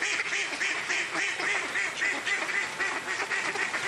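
Ducks and geese kept on a village farm in southern France quack and honk continuously, a dense, loud flock chorus close by with no pauses.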